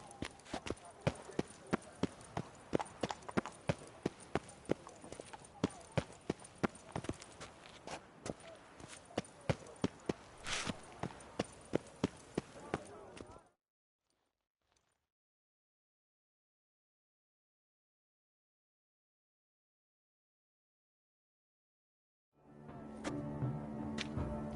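Hooves of Roach, the horse in the Witcher 3 video game, clopping in a quick regular rhythm on the ground, then cutting to near silence before faint game ambience returns.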